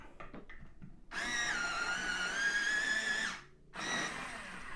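A coloured pencil whirs in an electric sharpener, with a steady high motor whine of about two seconds, a short break, then a second grinding burst close by.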